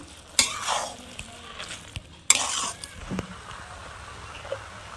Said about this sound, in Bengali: এইভাবে নাড়তে থাকবো, নাহলে তলা ধরে যাবে।